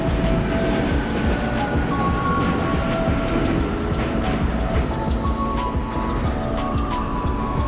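A New York City Q local subway train bound for Coney Island rumbles along the tracks with a steady roar, faint squeals and rhythmic clacks of wheels over rail joints; no talking.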